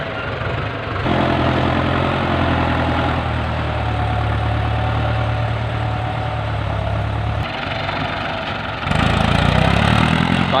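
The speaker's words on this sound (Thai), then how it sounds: "รถไถแรงจริงๆเลย" A tractor engine runs loudly and close, a low rumbling idle that shifts in pitch and revs up near the end.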